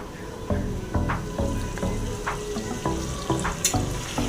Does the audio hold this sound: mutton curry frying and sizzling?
yes